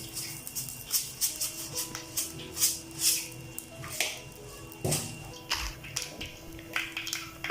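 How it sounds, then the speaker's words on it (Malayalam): Mustard seeds crackling in hot coconut oil for a Kerala-style beef thoran, giving close, irregular sharp pops and clicks over a low background hum, with no talking. "കടുക് പൊട്ടുന്നുണ്ട്"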